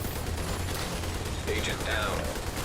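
Gunfire in a shooter game from a teammate on the flank, a dense, continuous crackle of shots that sits steadily across the whole stretch, with no clear gaps.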